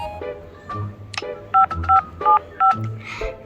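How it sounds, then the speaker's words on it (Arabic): A telephone keypad dials a pizza delivery order, with four clear, evenly spaced tone beeps following some soft button clicks and handling noises, close and alone. "طيب ماشي هكلمه دلوقتي"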